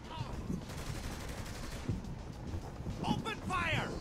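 Video game gunfire in Saints Row 3, several scattered shots and bursts mixed with game effects and voices, moderately loud against a busy background.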